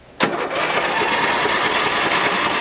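A riding lawn mower tractor used as a joyride taxi roars loudly and steadily close by after a sharp onset, its broadband engine noise filling the whole clip.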